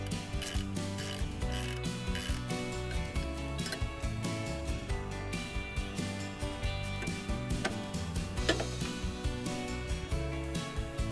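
A ratchet wrench loosening bolts on a Cobra Fortis cylinder lawnmower, steady rapid clicking of the pawl running continuously with a faint mechanical rattle close by.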